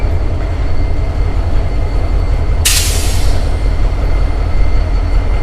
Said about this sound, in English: a southbound CSX going to come rolling our way